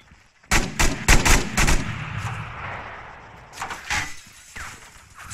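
Gunfire in Arma 3 during a realism-unit infantry operation: a rapid burst of several loud, sharp shots near the start, then scattered shots and rumbling echoes fading over the following seconds.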